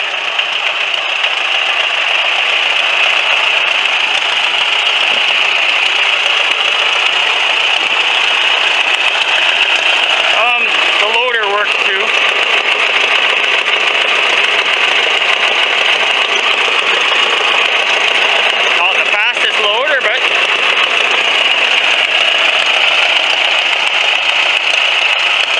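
A tractor engine with a leaking exhaust manifold runs at a steady idle, a loud continuous rattling chug throughout with two brief disturbances partway through and no voices.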